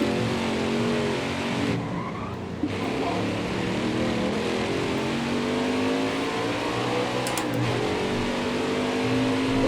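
NASCAR stock cars racing in Nascar Heat 5 during the Canadian Pie Chevy 250 playoff race, a loud continuous engine roar with rising and falling revs, a brief drop-out near the start and faint tyre scrub, close and sustained.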